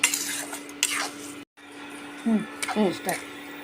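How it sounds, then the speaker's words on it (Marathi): A spoon stirs and scrapes a carrot and tomato barfi mixture with milk powder in a pan, making close clinks and scrapes broken by a brief silence, while someone talks over it. "आता हे हलवून घेऊ छानपैकी"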